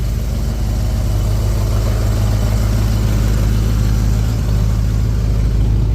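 A Ford XA Fairmont GS engine idling with its exhaust fitted, a steady, loud low rumble with an even throb and no talking.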